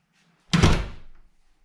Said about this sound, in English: You can just close this door